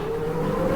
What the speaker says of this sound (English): We've got to start Supercar's engines